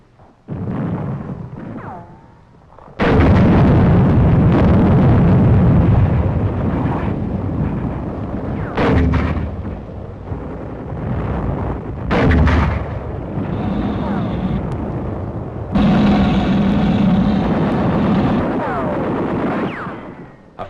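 A mortar crew fires in wartime combat in the Pacific against Japanese forces, heavy booming blasts repeating loudly over about twenty seconds amid rumbling battlefield noise.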